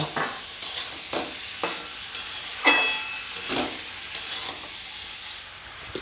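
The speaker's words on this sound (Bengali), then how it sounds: "ভেজে রাখা মাছের মুড়োগুলোও দিয়ে দিব ভালো করে কষিয়ে নেব" Fried vegetables and fish heads being sautéed in spices, a spatula scraping the pan in regular strokes over a gentle sizzle, close and moderately loud.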